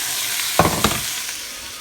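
Chopped carrots, celery and pepper hitting hot oil for Japanese curry, with a sudden burst of sizzling and a couple of clattering stirs over a steady hiss.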